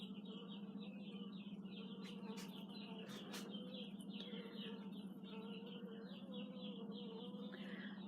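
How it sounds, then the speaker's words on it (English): A trapped honeybee buzzes faintly and steadily inside a lidded wax cup on an indoor table, with soft bird chirps in the background. "the wax cup was sitting here on the table with a honeybee in the cup"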